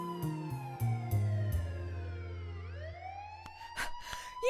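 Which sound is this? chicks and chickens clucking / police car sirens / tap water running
police car sirens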